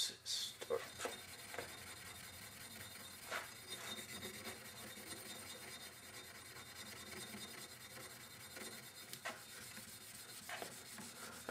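Scrubbing rust off a steel axe head, a soft continuous rubbing rasp with faint irregular strokes and occasional light knocks, fairly quiet and close, with no voices.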